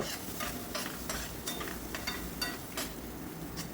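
Onions with a little salt frying in a tri-ply Prestige fry pan, a soft sizzle under regular scrapes and stirs of a spoon against the pan, fairly quiet and close, with no talking.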